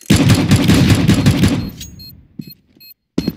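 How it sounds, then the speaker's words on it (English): A flashbang grenade goes off in a video game as a loud, dense burst lasting over a second, then fades into a thin ringing tail broken by a couple of short, sharp bursts. "I'm throwing a flashbang."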